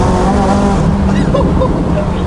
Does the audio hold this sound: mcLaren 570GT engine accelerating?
yes